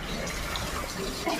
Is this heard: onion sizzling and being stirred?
no